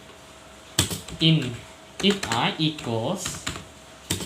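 Quick keyboard taps from someone entering Python code on a computer, heard under a person talking nearby.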